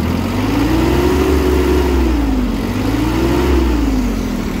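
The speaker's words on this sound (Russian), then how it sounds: "Кстати, достаточно мягко трактор работает." An ISEKI 145 Japanese mini tractor engine running smoothly and loudly up close, a steady mechanical drone with a gently rising and falling pitch as the revs waver, no voices present.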